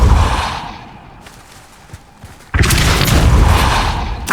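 A Depulso spell cast in the Hogwarts Legacy video game hits with a sudden loud boom midway through, and a dense, sustained roar follows it after a quieter stretch with a few small thuds.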